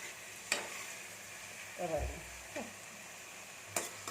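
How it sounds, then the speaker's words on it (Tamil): Tomatoes sautéing in a pan for a potato poriyal, a soft steady sizzle with a few stirring scrapes and clinks, fairly quiet and close, with no talking. "இப்போ தக்காளி நல்லா வதங்கிடுச்சு பாருங்க"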